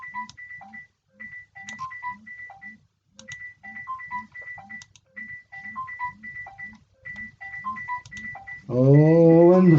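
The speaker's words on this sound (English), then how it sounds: "Oh, and the phone is ringing." A phone rings with a repeating electronic tune in even, rhythmic bursts, fairly close and clear, before a louder, different sound cuts in at the very end.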